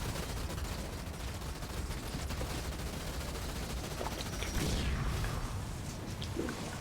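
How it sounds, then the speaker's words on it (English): Heavy sustained gunfire and explosions from hostile vehicles in the strategy game Halo Wars 2, a dense continuous barrage with a louder swell of booms near the end, no talking. "Marines under fire from hostile vehicles!"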